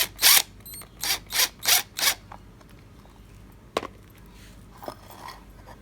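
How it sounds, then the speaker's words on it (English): A power drill drives a screw into wood while a toilet storage unit is being built. Five loud, evenly spaced motor bursts come in quick succession, followed by a couple of sharp clicks and quieter handling. "I'm just going to put a screw in temporarily so that it can hold it together"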